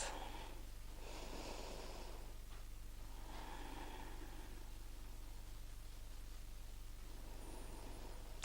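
Slow breaths during a yoga class, several soft, airy inhales and exhales rising and fading over a steady low hum, close and fairly faint, with no talking.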